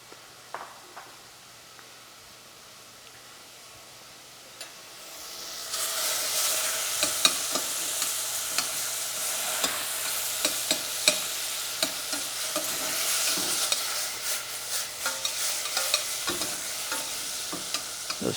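Strawberries and other fruit for a summer crumble cook and get stirred in a pot. A quiet opening gives way to a steady sizzle and bubbling, punctuated by clicking spoon strokes.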